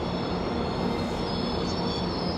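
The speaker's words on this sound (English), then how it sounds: "I see an incoming Via train" A Via passenger train rumbles past nearby with a steady, dense roar and a faint high metallic squeal from the wheels throughout.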